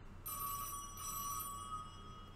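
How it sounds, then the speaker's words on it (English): A telephone ringing in a horror video game, a steady electronic bell tone in two bursts, moderately loud over a low background hum. "Phone's ringing."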